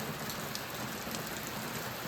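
Rain pours down steadily on a farm, a uniform hiss of dense drops that holds at an even level for the whole stretch, with no talking.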